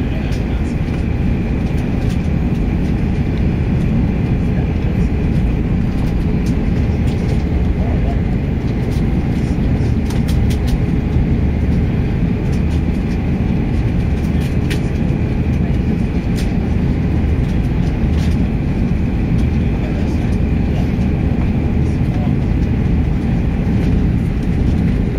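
Virgin Atlantic Airbus A340-600 taking off, heard from inside the cabin as a loud, steady low roar and rumble that holds for the whole stretch, with faint rattles over it.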